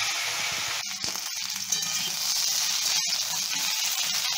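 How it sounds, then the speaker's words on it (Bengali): Mixed vegetables for shukto fry together in a pan with ginger and fennel paste, giving a steady, close sizzle and hiss throughout with a few brief stirring breaks. "এইভাবে প্রত্যেকটা সবজি আমি একসাথে ভেজে নেব।"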